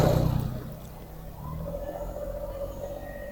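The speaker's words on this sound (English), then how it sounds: "Now start the tractor." Kubota BX2360 compact tractor engine turning over and settling into a low, steady diesel idle rumble, moderately quiet and continuous with a faint tonal hum.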